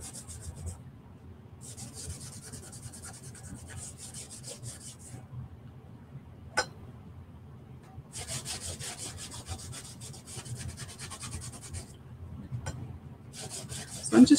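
Dark wax rubbed by hand into the surface of a wooden faux pallet sign, giving soft, steady scrubbing strokes in bursts with short pauses, close and fairly quiet.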